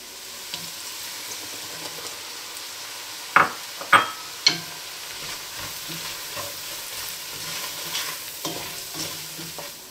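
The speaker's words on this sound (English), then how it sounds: "we're going to add in 5 tablespoons of flour. That's going to mix with our fats and make a roux." Flour is stirred into softened, fragrant aromatics and fats in a pan to make a roux for tomato bisque, with a steady low sizzle under close stirring scrapes and a few sharp utensil knocks against the pan.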